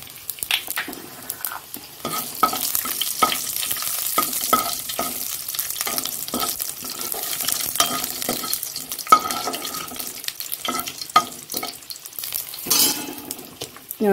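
Dried red chillies and cumin seeds fry in hot oil in a pan, crackling and sizzling at close range, broken by repeated scrapes and clinks of a spatula stirring.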